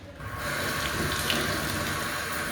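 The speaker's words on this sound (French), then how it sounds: "on va la rincer également sous la douchette" A visor being rinsed under a sink's spray faucet gives a steady, close hiss of running water that starts softly and holds at an even level.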